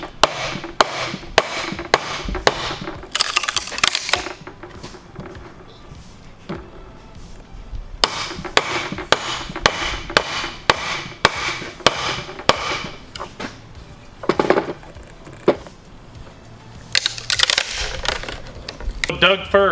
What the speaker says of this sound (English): we take the 2-inch chisel and we break all that little stuff out